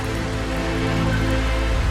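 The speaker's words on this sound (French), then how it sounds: "Ça fait une barrière d'eau, on sent la pluie, on sent le poids de la pluie." A heavy tropical downpour in Vietnam pours down as a dense, steady wash of rain striking surfaces, close and continuous with no break.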